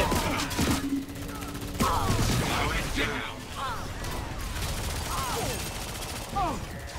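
A rapid-fire pistol held on automatic by the Wraith character in the video game Lawbreakers rattles off dense, continuous shots, mixed with game effects and a voice talking over the action.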